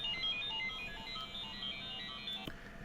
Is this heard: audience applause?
no